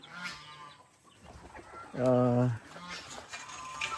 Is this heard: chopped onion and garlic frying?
no